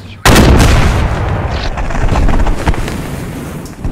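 A Panzer tank blows up in the Post Scriptum battle for Arnhem, a sudden loud explosion bursting in near the start and rumbling on with a long, rolling, noisy tail.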